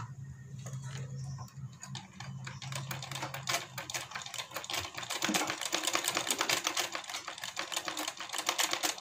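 A sewing machine, run slowly, stitches the side seam of a blouse with a rapid, steady clatter of the needle that grows busier partway through, close and continuous with no talk.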